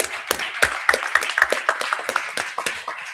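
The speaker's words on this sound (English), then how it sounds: "please thank my panelists right now by giving them a round of applause" An audience at the Caribbean Investment & Development Forum gives the panelists a round of applause: a brisk patter of distinct claps, fairly close, with a few faint voices mixed in.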